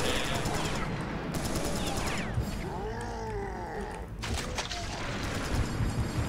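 Gunfire in the video game Serious Sam 3: BFE co-op, dense sustained shooting and explosions blended with loud creaking and sweeping effects, a continuous loud barrage throughout.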